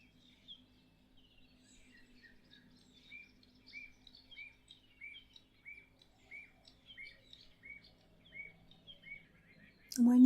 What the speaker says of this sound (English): the birds as they fly up from the ground and from the trees around you